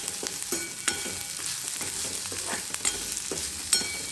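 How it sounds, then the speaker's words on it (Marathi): Onions frying and being stirred in a pan while making samosas from wheat flour, a steady close sizzle broken by repeated scraping stirs of the spatula, with no talking. "चांगले कांदे भाजायचे जास्त पण भाजायचे नाही"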